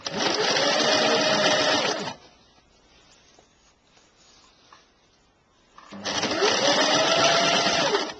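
Sewing machine stitching a seam on a caftan dress, running in two loud steady bursts of about two seconds each, separated by a quieter pause while the fabric is repositioned.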